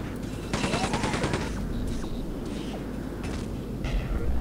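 Enemy firing rockets in the video game Quake 2, in a prison level, several bursts of rapid loud blasts and crackling launches in quick succession over a constant low background rumble.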